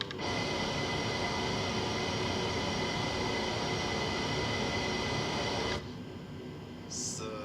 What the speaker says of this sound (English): So I'm just going to put down flaps.